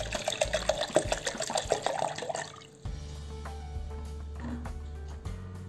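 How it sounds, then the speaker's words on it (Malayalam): Cold water is poured into a blender jar for a Mexican mint (panikoorka) juice, with a busy splashing pour for a few seconds that stops abruptly, followed by quieter kitchen sounds and faint drips. "ആദ്യമേ കുറച്ച് തണുത്ത വെള്ളം ഒഴിക്കുക."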